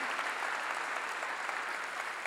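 Steady, dense applause from a church congregation during a pastor's sermon, a continuous wash of many hands clapping at an even level with no pauses, heard alone.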